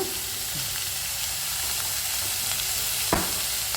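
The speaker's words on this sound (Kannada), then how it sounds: "ಈಗ ಸ್ವಲ್ಪ ಒಂದು ಎರಡು ನಿಮಿಷ ಫ್ರೈ ಆಗಲಿ" Vegetables fry in a pan with a constant close sizzling hiss, broken near the end by a single sharp clink of a utensil against the pan.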